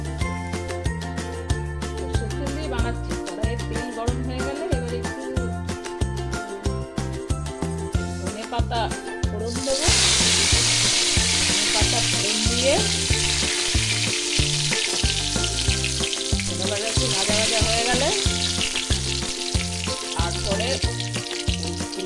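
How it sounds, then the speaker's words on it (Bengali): Ground cumin, coriander powder and dried chilli fry in a pan with a steady, loud sizzle that grows brighter and stronger partway through, with occasional light clinks of a stirring utensil. "এবার আমি একটু জিরে গুঁড়ো ধনে গুঁড়ো আর একটু শুকনো লঙ্কা সামান্য একটু দিয়ে হালকা ভেজে নেব"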